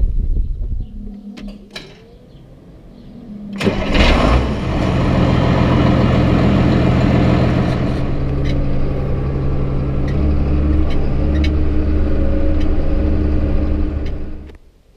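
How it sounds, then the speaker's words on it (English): A farm tractor engine starts up and runs steadily nearby, its low heavy rumble holding through the rest of the clip with faint clanks over it and no talking. "I just brought this tractor up here"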